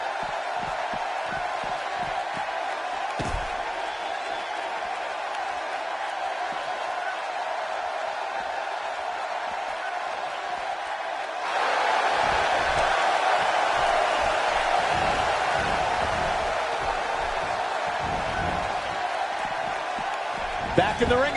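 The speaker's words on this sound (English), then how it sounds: "by the sounds of it, this crowd is ready for anything that happens tonight" A crowd cheers in a wrestling video game, a continuous arena roar that swells louder partway through, with an announcer talking over it.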